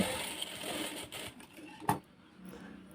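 A sewing machine stitches blouse fabric in short runs, a soft whirring patter that starts and stops, broken by a couple of sharp clicks, and no voices.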